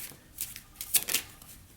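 Tarot cards are shuffled by hand in a few quick papery riffles and flicks, close and crisp, in short bursts separated by brief pauses.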